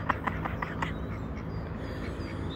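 Ducks quacking outdoors: a quick run of several short, nasal quacks in the first second, then quieter, scattered calls over a steady background hiss.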